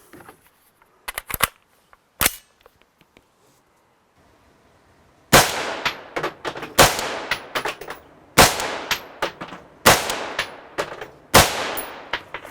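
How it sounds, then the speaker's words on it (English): Gunfire outdoors: after a few faint handling clicks and a near-silent pause, a quick string of loud, sharp shots rings out about a second apart, each with a short decaying tail. "let's shoot a quick string here"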